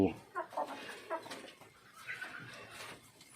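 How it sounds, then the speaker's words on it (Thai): Chickens of a neighbour's native Pradu breed cluck in their coop in the morning, several short faint calls near the start over soft background noise, with a voice talking quietly. "ก็จะเป็นแม่พันธุ์ไก่เพื่อนบ้าน"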